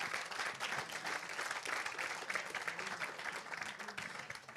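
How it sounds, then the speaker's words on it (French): Audience applause at an annual gathering, a soft, distant-sounding wash of many hands clapping that stays steady throughout without any talk over it. "Et je pense qu'on peut les applaudir."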